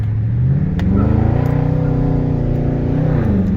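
Dodge Charger Daytona Scat Pack V8 rumbling from its exhaust with a deep, loud, throaty drone that rises and falls as the engine is revved, heard close and continuous.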